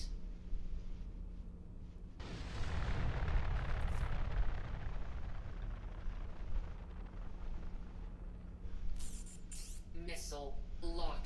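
Torpedoes launch and explode in the space game Star Citizen, heard as a sudden roaring blast that swells into a long, dense rumbling wash, with electronic alert tones near the end.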